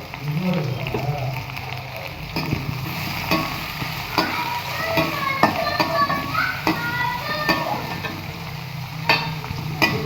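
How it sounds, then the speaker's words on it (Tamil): Onions sautéing in a pan for chicken gravy: a soft continuous sizzle broken by repeated sharp clicks and scrapes of a spoon stirring, with faint voices in the background. "வெங்காயம் போட்டுக்கலாம். வெங்காயம் நல்லா வதக்கணும்."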